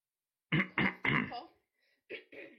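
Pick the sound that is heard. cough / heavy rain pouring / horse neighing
cough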